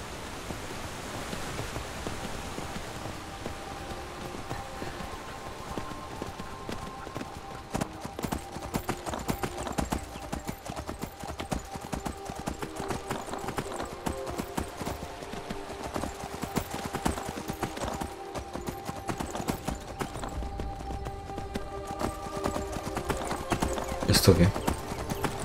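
Rhythmic hoofbeats of a galloping horse in Skyrim Anniversary Edition pound on steadily, with a soft noisy wash underneath and a voice talking over them.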